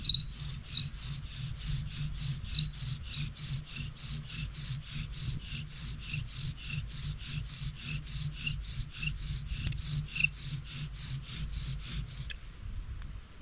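A cedar spindle spins rapidly on a cedar fireboard in a friction fire drill, giving a steady, rhythmic rasping squeak with quick back-and-forth strokes that continue evenly before stopping abruptly near the end.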